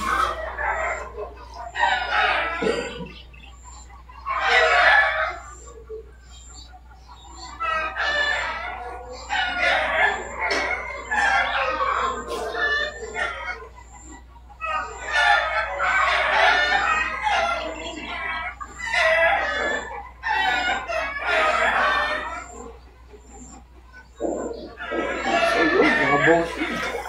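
Chickens received as a gift, clucking and crowing repeatedly in close, loud bursts, with people talking and chuckling over and between the calls.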